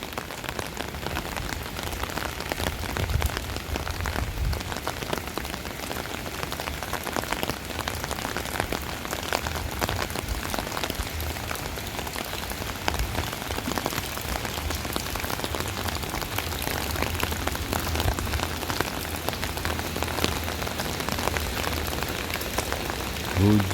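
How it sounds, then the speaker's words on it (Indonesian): Rain falls steadily on surfaces around an Indonesian housing area, a dense continuous patter of drops heard close and even for the whole stretch, with no talking. "Hujan, hujan, hujan, hujan"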